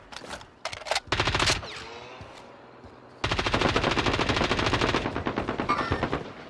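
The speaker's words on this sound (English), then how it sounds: "I'm being shot at big time." Gunfire in a military video game: a few loud bursts of automatic fire, a short pause, then a long sustained rapid stream of shots, close and dominant with no talk.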